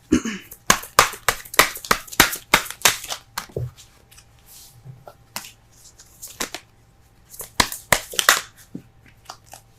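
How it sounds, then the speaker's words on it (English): A tarot deck bursts apart, its cards slapping and fluttering out in quick crisp bursts, a dense flurry at first and then scattered flaps, close and fairly loud with no talking. "Cards are flying out everywhere."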